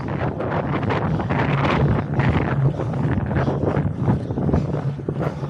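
Strong headwind buffets the microphone during a cycling hill climb in the Peak District, producing loud, uneven rumbling gusts that rise and fall throughout without any voices.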